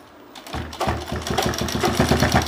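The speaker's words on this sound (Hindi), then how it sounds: "अब इसके ऊपर सिलाई लगाना है।" Sewing machine stitching a fabric strip onto a pillow cover, starting up and then running in a steady, fast, close mechanical rattle with a regular beat.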